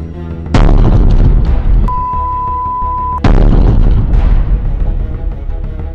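An explosion near a trolleybus depot in Luhansk: two loud, sudden blasts with rumbling decays a few seconds apart, and a steady electronic beep tone between them; no talking.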